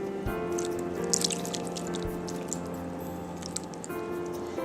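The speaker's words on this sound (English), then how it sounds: "I've saved out a little the broth from the roast, and I'm going to put it right on top of this." Roast beef broth poured over sliced roast in a Pyrex glass dish, a steady close wet drip and squish with soft splashy bursts, no talking.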